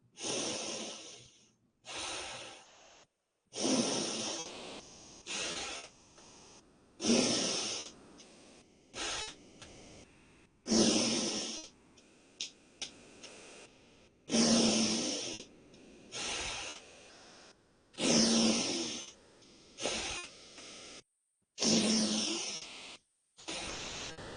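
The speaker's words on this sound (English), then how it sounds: "Join me for round of connected breathing in and out of the nose." Slow, deliberate breathing in and out through the nose during a guided breathwork practice, repeating as close, airy, hissing breaths in a steady rhythm of about a dozen cycles, separated by short silences.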